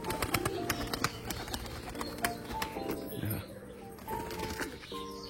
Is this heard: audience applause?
no